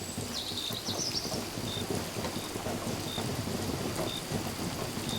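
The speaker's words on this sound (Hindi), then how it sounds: "बारिश हर चीज़ को नरम बना देती है, यादों को, विचारों को, समय को।" Steady, heavy rain pours continuously with a dense hiss, and faint rumbles sound in the background, with no voices.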